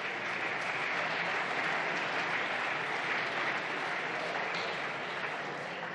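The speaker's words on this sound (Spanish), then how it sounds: "hasta su bancada ha tenido que hacer un esfuerzo para aplaudirle" Members of the Spanish parliament applauding the prime minister in the chamber, a dense, steady wash of clapping from many hands that holds at an even level for several seconds with no voices.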